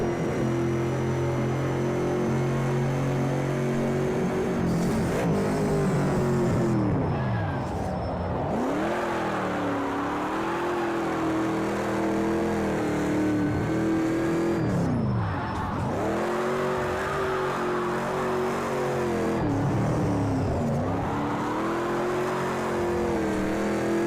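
Race car engine in Project CARS 2 with a drift mod, droning steadily through a lap with repeated dips and swells as it lifts off and revs back up, tires squealing at times, loud and continuous.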